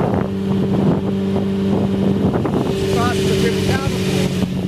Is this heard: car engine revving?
yes